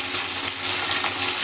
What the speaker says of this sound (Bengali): আমার আরও যে মাছগুলো ছিল সেগুলো আমি তেলে অল্প অল্প করে ছেড়ে ভেজে দেবো।